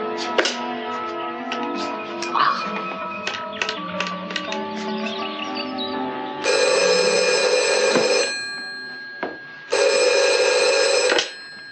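A telephone being dialed with a flurry of clicks and taps, then two long loud electronic rings separated by a short gap, close and sharp in an indoor room.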